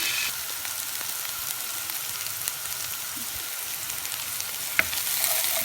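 Potato stuffing with curry, coriander and cumin sizzles steadily in a pan while being stirred, with soft scraping and occasional sharp clicks over the constant frying hiss.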